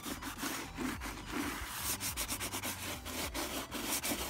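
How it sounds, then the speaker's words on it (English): Fine sandpaper rubs back and forth on a BMW E36 wheel rim to roughen the surface before painting. The strokes are steady, rhythmic and close, repeating through the whole stretch with no talking. "So just have, you know, not too rough, but pretty fine sandpaper"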